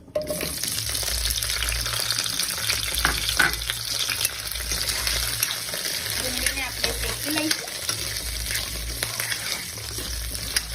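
Sliced onion and dried red chilies fry in hot oil in a pan, a steady close sizzle with light stirring scrapes throughout and no talk.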